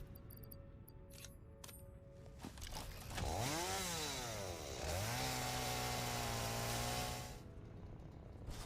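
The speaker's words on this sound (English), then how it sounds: "And I need the chainsaw." A chainsaw in the video game Satisfactory cuts a tree, revving up loudly, bogging and rising in pitch through the cut, then holding a steady whine for several seconds before cutting off.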